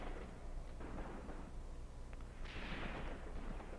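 German rifle and machine-gun fire in the WWII tactics game Graviteam Tactics, set around Kharkov in 1942, a faint, distant rumble of overlapping shots and bursts with no talk.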